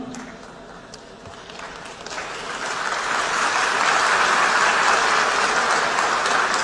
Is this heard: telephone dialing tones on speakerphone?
no